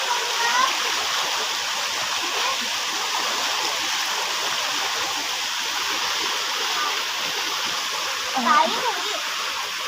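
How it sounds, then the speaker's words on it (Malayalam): A shallow stream flows past as an even, close wash of running water with a small splash near the end and faint voices in the background. "വെള്ളം ഒഴുകും കേട്ടോ"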